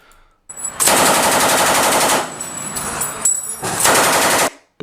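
A C6 GPMG 7.62 machine gun fires two long, loud sustained bursts separated by a short break, sharp and close, with a brief lull before the second burst.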